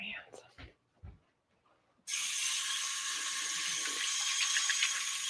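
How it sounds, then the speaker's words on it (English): Tap water gushes steadily into a sink as gold paint is washed off hands, a loud continuous stream that starts abruptly after a few soft murmured words and quiet handling noises. "I'm gonna go wash this gold off my hands"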